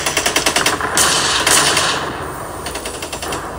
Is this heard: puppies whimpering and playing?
no